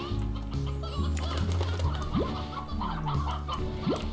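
Hens clucking in the farming game Slime Rancher, a run of short repeated clucks and chirping bird calls over a continuous low game background tone, with occasional rising squawks.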